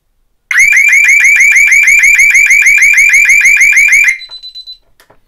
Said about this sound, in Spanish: voy a puntear a la zona 4 y van a ver que, aunque no esté conectada la alarma, va a saltar.